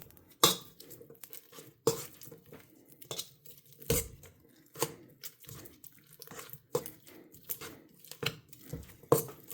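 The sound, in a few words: creaming butter in a bowl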